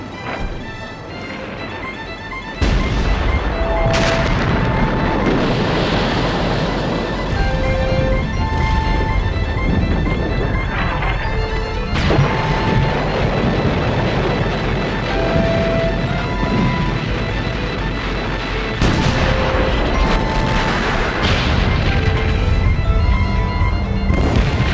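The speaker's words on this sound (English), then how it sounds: "The Germans hit the British with 1 million shells in just 5 hours." A 1918 World War One artillery bombardment of British lines is heard as a continuous roar of shellfire. Heavy booms and crashes are layered under musical tones, with sharp impacts recurring every few seconds.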